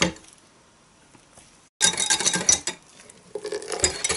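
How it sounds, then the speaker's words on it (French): A spoon gently stirs a homemade kokum butter hair balm in a bowl, starting with a faint scrape and then turning into busy clinks and scraping of utensil against the bowl. "Il suffit d'incorporer tout doucement et de mélanger tout doucement également."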